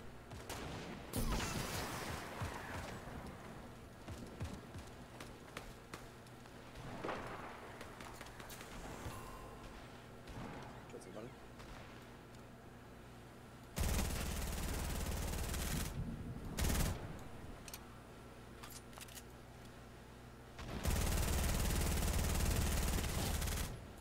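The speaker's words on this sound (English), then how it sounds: "Somebody's shooting at me." Rapid bursts of video game gunfire, with scattered shots early on and two loud, sustained volleys of automatic fire later, set against quieter background game sound.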